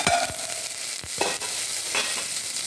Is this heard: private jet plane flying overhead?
no